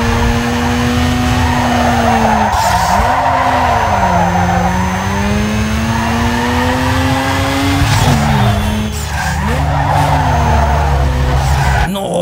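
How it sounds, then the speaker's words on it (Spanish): In Need for Speed Underground 2, a street car drifts with its tires squealing loudly and continuously, the engine droning under the skid as the pitch rises and falls through the slide. "igual el RQ8 entra fácil en el derrape, pero es difícil controlarlo, hacer el contravolante"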